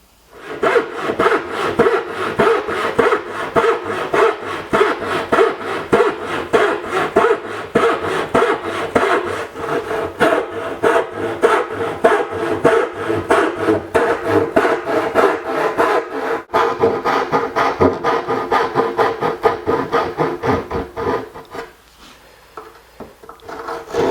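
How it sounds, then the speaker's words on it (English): Hand saw cutting notches into a wooden outfeed-table panel for a SawStop saw, a steady run of rhythmic back-and-forth rasping strokes, close and loud, slowing and fading near the end. "So all we got to do now is just saw out a few notches."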